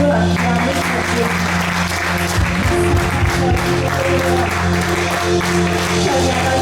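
A worshipping congregation bursts into dense, sustained applause and cheering, loud and continuous, with a steady hum of music underneath.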